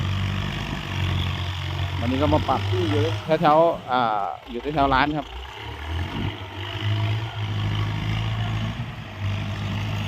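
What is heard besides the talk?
Kubota M9000 turbo intercooler tractor engine running gently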